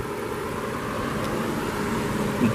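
A 2002 Lexus SC430 with its 4.3-liter 3UZ-FE V8 idles steadily and smoothly, a continuous close, even engine hum with no voices over it.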